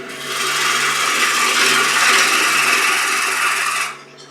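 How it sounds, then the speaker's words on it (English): A woodturning chisel cuts into a spinning wooden bud vase on a lathe, a loud continuous rasping hiss with a steady motor hum beneath, the cut ending abruptly near the close. "I'm just cutting into that shoulder and pushing that material away from my, my chisel."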